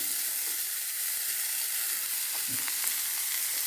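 Shallots, mustard seeds and curry leaves frying in hot oil give a steady, close hiss, with a few faint pops and stirring taps and no talking.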